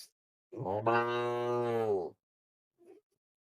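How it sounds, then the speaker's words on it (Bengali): A single goat lets out one drawn-out, loud bleat lasting about a second and a half, then a faint short noise follows in the quiet. "বুঝলে বাপু এই ছাগলটা দেখো।"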